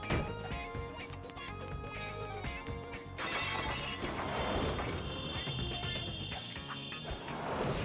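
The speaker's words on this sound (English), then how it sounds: "this stock glass shattering sound effect gets real old real quick" Stock glass-shattering effects from the Sonic Unleashed video game crash out twice in quick succession amid dense, loud game sound.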